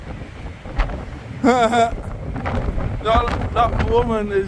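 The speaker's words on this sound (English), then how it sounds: "If you look at the beach, you get a big, massive draft of wind there" Strong gusting wind from storm Isha on Blackpool beach buffets the microphone in a steady roar, with a voice speaking over it in short bursts.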